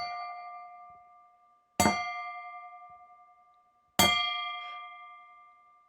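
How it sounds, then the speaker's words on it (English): A meditation gong is struck twice, a few seconds apart, each sharp strike blooming into a clear, sustained metallic ring that slowly fades in the quiet, with nothing else heard. "we begin now with the sound of the gong"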